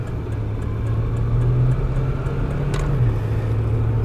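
Cabin noise inside a moving 1983 Plymouth: a steady low engine drone with moderate road rumble, the pitch holding even and shifting slightly once as the car cruises, continuous and fairly close.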